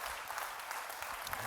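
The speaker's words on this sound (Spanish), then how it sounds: "Le hace aplauso al Señor" A church congregation applauds during a sermon, a steady wash of many hands clapping at moderate level, continuous and dense for the short moment with no clear voices standing out.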